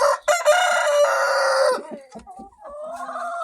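A rooster crows loudly up close in one long, strained call, followed by a few softer clucks and chicken calls.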